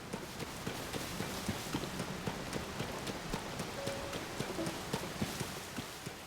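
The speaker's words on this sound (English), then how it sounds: "all this rain" Soft, steady rain patters in the video game The Legend of Zelda: Tears of the Kingdom, near Lookout Landing, with a regular clopping of hooves or footsteps running underneath at an even pace.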